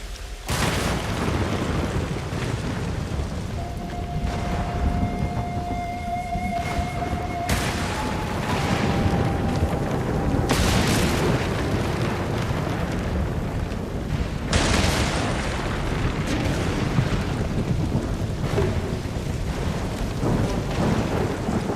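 Heavy rain pours in a thunderstorm in Ghost of Tsushima during the Yasuhira Koga boss fight, loud steady downpour broken by several thunder cracks and rumbles, with sword clashes and tones mixed in.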